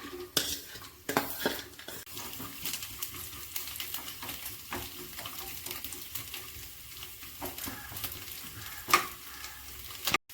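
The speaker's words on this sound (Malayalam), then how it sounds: "പാനിലേക്ക് കുറച്ച് നെയ്യ് ഒഴിച്ചു കൊടുത്ത് ഒന്ന് ചൂടായി വന്നപ്പോൾ തേങ്ങാക്കൊത്തിട്ട് കൊടുത്തൊന്ന് മൂപ്പിച്ചെടുക്കാം" Coconut pieces roast in hot ghee in a pan, a steady soft sizzle broken by frequent clinks and scrapes of a spoon stirring against the metal, close and moderately loud with no voices.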